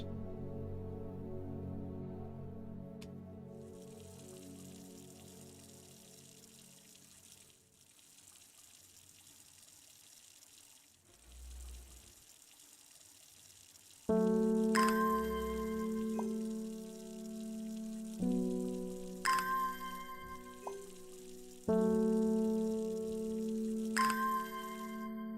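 Plants are watered in a video game, with several distinct bursts of gushing, pouring water starting and stopping in the second half, after a quieter stretch of soft tonal background sound.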